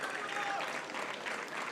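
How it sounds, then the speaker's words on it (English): Crowd applause at an ESL ESEA Pro League Counter-Strike event in Dubai for the teams Fnatic and Virtus.pro, a fairly faint, steady wash of clapping with a voice heard briefly over it. "one more time, a round of applause for Fnatic and,"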